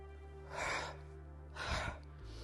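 Two deep breaths drawn during a Pilates exercise, soft and close, each a rising airy inhale about a second apart, over a faint steady background hum.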